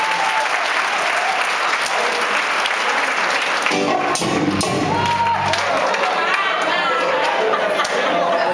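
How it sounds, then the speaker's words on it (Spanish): Loud church audience applause at a prayer circle, many hands clapping continuously with crowd chatter and cheering mixed in, and a brief shift midway where voices rise. "Un aplauso a Él porque vino"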